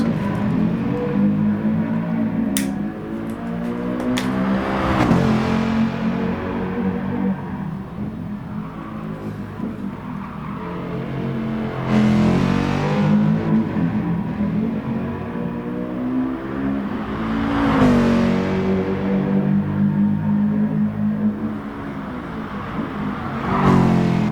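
Race car lapping the Nürburgring in Gran Turismo Sport, engine droning steadily with repeated rising revs through gear changes and occasional tire noise, loud and close without talk.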